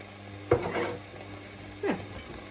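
Chopped garlic sizzles in a pan as a soup base, two brief stirring bursts of frying hiss rising over a low steady background with no talk.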